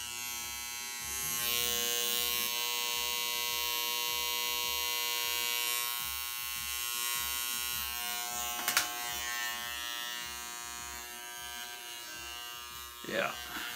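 Electric hair clipper buzzing steadily through a DIY home haircut, an old worn unit due for replacement, with a continuous close hum that shifts slightly in tone and a few faint clicks and handling noises.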